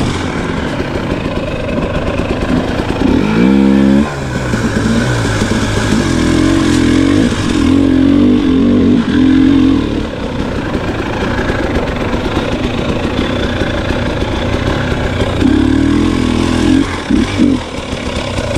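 A KTM 300XC two-stroke dirt bike engine revs repeatedly while riding off-road over log hops, with loud, close buzzing surges that rise and fall and nearly continuous engine drone in between.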